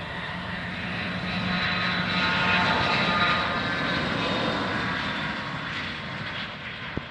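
A Falcon business jet takes off on runway 16R at Van Nuys Airport, its engines producing a loud, sustained roar that swells to a peak midway and then slowly eases as the aircraft moves off.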